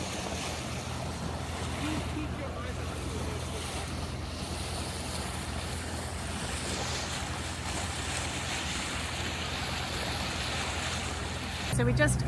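Boat cruising on water into Smith's Creek, a continuous low engine drone mixed with wind and water wash, moderately distant and even, with a brief louder bump near the end.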